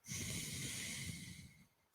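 A single long exhale through the right nostril during alternate-nostril breathing in a low-impact circuit fitness class: a steady, airy hiss lasting almost two seconds, close to the mic, then fading.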